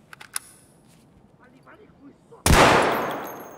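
A single loud gunshot in Escape from Tarkov on the Customs map bursts in sharply near the end, its echo tailing off, after a stretch of quiet footsteps and faint ambient sounds.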